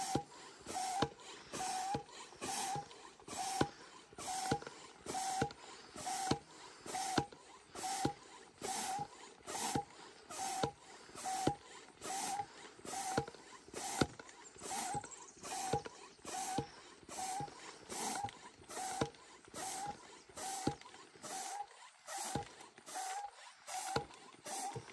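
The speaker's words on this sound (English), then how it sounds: "we've got the whole tent pumped up and inflated" An electric pump inflating a Dometic Pico inflatable swag tent, chugging in a steady pulsing rhythm of regular beats about once a second, close and moderately loud, with no talk.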